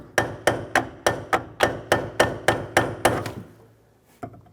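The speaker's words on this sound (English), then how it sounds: "I have to keep tapping it with a hammer to create vibrations." A hammer taps over and over on the brake master cylinder of a 2000-2005 Ford Excursion, about a dozen close, sharp metallic knocks in a quick steady rhythm, then a pause and one last lighter tap.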